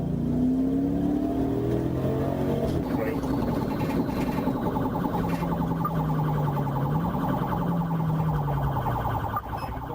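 Police V8 Dodge Charger with a pit bar chasing a Toyota Yaris: steady engine and road roar with a wailing siren sweeping up and down underneath, moderately loud throughout, with some voice or radio mixed in.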